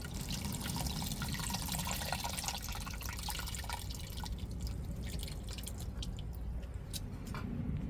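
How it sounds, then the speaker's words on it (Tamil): Tamarind water pours and trickles steadily into a curry pot, a continuous splashing stream with scattered drips toward the end. "இப்போ புளியை சேர்த்துக்கிடுவோம்"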